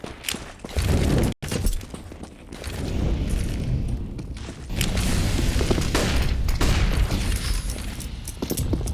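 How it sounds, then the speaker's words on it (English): Grenade blasts and gunfire from a Counter-Strike match on the Overpass map, a dense, loud run of booming thuds and crackling bursts that carries through the whole stretch with only a brief drop in the middle. "Deep nade, nice damage."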